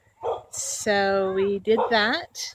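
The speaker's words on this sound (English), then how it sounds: "You can hear them barking in the background because the neighbors just came home." Neighbors' dogs bark and yelp intermittently behind a nearby voice speaking, the sharp calls rising and falling over about two seconds.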